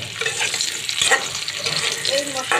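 Potatoes and sponge gourd fry in a pan with a steady close sizzle, broken by a few stirring scrapes.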